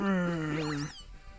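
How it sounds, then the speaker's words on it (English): Litten, the fire cat Pokémon in Pokémon Sun, gives one close, clear synthesized meow with a rising then falling tone, lasting under a second before fading to quiet game ambience. "Good, Litten. Good kitty."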